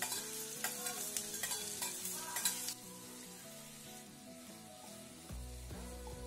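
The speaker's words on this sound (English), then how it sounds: "Once the oil gets heated enough, add the sliced onions in it and add salt." Sliced onions and salt fry in hot oil on a tawa, with a soft continuous sizzle broken by a rapid run of scraping stirs, then a quieter settled frying.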